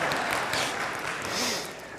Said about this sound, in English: if you want to clap about that, that's okay